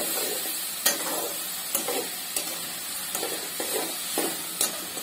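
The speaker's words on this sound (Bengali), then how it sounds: "ভালো করে নেড়ে কাঁচামরিচ কুচি দিয়ে দেব।" Ground cumin and spices cooked with chopped garlic and ginger in a pan, stirred with a spatula that scrapes at regular intervals over a soft, steady sizzle, close and moderately quiet.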